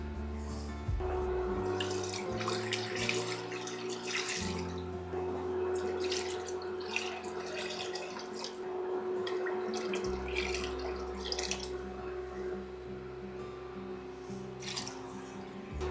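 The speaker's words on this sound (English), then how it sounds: "Then I'm just going to top the water up" Water runs steadily from a tap into a pot holding corned beef, a continuous splashing, dripping flow close by with shifting low gurgles as the pot fills, no voices.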